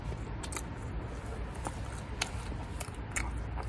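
Close, quiet chewing and crunching on convenience store food eaten outdoors at a bus stop, with soft irregular bites over a steady background hum.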